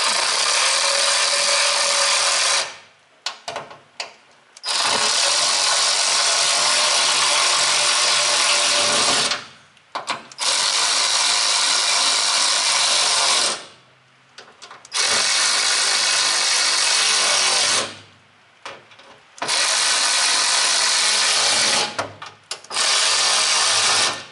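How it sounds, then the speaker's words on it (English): A hand ratchet runs up screws in rapid, continuous clicking bursts of several seconds each, separated by short pauses, loud and close with no talk. "Now we can run them up with our ratchet."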